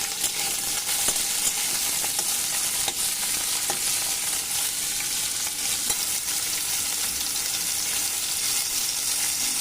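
Bitter gourd slices fry in oil in a wok, giving a steady, close, loud sizzle with crackles and light stirring scrapes throughout, no voices.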